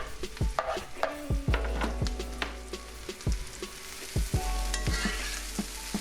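Diced large eggplant cooking in a pan, loud close sizzling broken by repeated knocks and scrapes of stirring in an irregular rhythm, with no one speaking.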